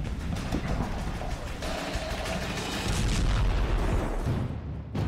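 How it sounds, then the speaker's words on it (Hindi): Blast of a 22 kg M982 Excalibur artillery shell warhead, a dense sustained roar of booming and crackling rumble that swells midway and stays loud throughout. "जब 22 किलो के वॉरहेड में धमाका होता है तो देखिए कितनी बड़ी तबाही होती है।"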